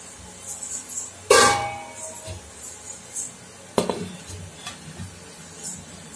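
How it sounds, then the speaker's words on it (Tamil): A metal lid set onto a steaming pot of rice puttu, with one sharp loud clank followed by a second clattering knock a few seconds later, plus faint scrapes and clinks in between. "இப்ப நாம மூடி வச்சிடலாம்."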